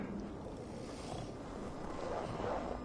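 Steady wind sweeps across an open landscape in Assassin's Creed Valhalla ahead of a coming storm, a soft, even rush of air with a slight swell near the end and no voices.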